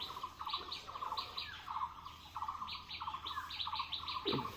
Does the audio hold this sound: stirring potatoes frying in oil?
no